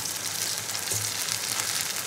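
An egg paratha fries in a pan with a continuous bright sizzle and crackle of hot oil, steady and close for the whole short stretch.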